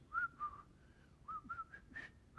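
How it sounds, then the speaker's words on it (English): People whistling a melody in a series of short, clear phrases with brief pauses between them. The whistling is fairly close and alone, over a faint background. "Now, I remember the part where they're whistling."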